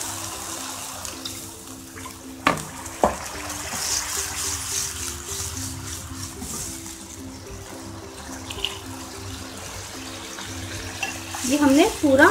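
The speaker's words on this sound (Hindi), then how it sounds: "2 मिनट तक पकने के बाद अब हम इसमें और पानी ऐड करेंगे।" Water is poured into a pan of sizzling tomato masala gravy for restaurant-style paneer masala, bringing a steady hiss and bubbling with a couple of sharp clinks from stirring and a burst of spattering frying at the end.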